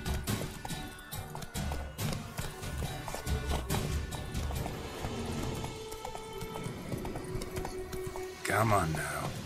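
Roach, the horse in The Witcher 3, gallops with steady clip-clop hoofbeats running under game music and other effects, with a louder burst near the end.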